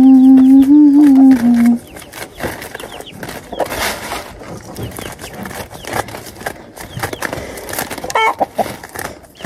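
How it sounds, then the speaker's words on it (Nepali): Farmyard chickens waiting to be fed cluck loudly and close for the first two seconds, then the sound drops to a softer, mixed background of rustling and faint bird calls. "कुखुरालाई चारो लगाइदिनु पर्यो हौ"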